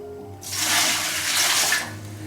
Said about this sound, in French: Et puis je vais le recouvrir d'eau.